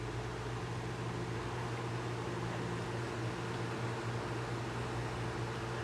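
An AirKing 16-inch grey bladed desk fan, motor hot from long use, runs on its low setting with a steady, close whooshing drone and a faint motor hum, unbroken and without talk.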